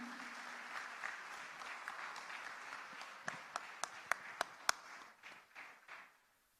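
A crowd at a Christmas celebration applauds to welcome Chief Minister Chandrababu Naidu, a steady spread of clapping with several sharp, close claps standing out near the end before it fades away.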